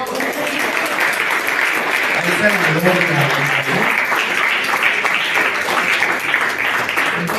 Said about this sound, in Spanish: Den un aplauso al Señor, hermano.